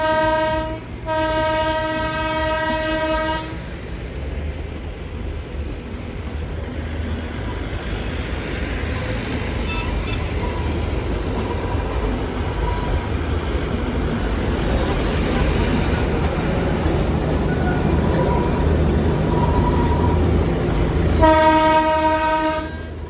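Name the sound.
Darjeeling Himalayan Railway train arriving at Kurseong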